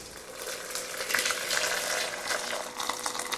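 Steady hissing, bubbling rush of hot water being poured, continuous and fairly close, with no voices.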